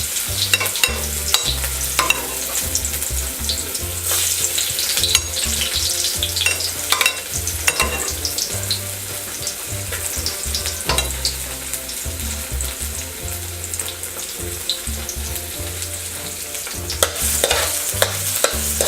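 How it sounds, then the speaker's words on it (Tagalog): Garlic fries in hot oil in a pan while being stirred for chopsuey with chicken gizzard, a loud, close, continuous sizzle with repeated spatula scrapes and clinks throughout, no voices. "Hahaluin lang ng hahaluin hanggang sa mag-brown yung bawang."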